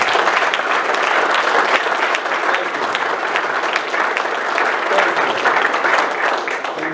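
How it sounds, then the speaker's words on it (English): Sustained applause from a meeting audience of ASHRAE members for a group of students, a dense, steady clapping wash lasting throughout at a loud, even level. "Let's give these kids a round of applause."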